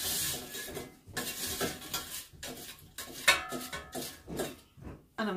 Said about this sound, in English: I'm just going to give these a stir around.